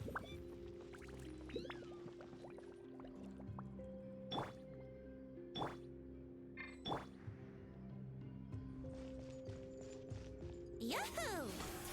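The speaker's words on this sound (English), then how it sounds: "water level is rising" Water rising in a flooded area of the game Genshin Impact, with a steady watery bed broken by several distinct drips and splashes over sustained musical tones, closing in a brief bright shimmer.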